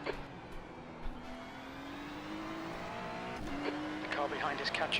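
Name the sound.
faster race cars approaching, Daytona endurance racing video game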